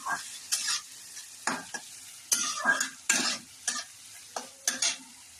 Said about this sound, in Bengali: গাজর, বিনস, পেঁয়াজটা লাল লাল ভাজা হলে